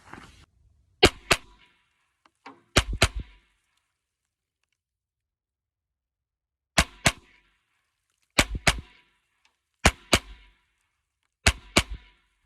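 Gunshots from a Smith and Wesson FPC carbine at an outdoor range crack out in quick pairs, five or six sharp double shots separated by silent pauses, loud and close with no talking.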